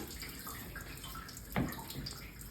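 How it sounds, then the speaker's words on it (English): Hot water poured from a bucket into a basin with its bottom drain open, a soft steady splash and trickle with a brief louder gush midway, fairly close. "grab my bucket of hot water. Now pour some in there."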